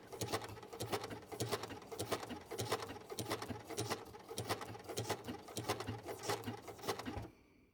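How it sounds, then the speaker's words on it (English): A sewing machine running steadily while doing decorative open fly stitching on a wool applique parrot wing, a rapid even mechanical patter with rhythmic bursts that stops abruptly near the end. "I'm doing the decorative stitching on the wing with the same thread"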